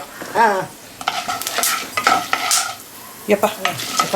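Spices such as pepper and fenugreek dry-roasting in a pan for Brahmin-style bisi bele bath powder, with irregular crackles and scraping stirring strokes in uneven bursts, fairly close and moderately loud.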